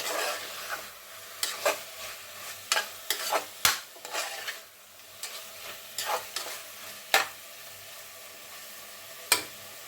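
Green masala for chicken biryani frying and being stirred in a pan, with a steady sizzle under repeated scraping strokes of a spoon, some sharp and clattering, close and fairly quiet, no talk.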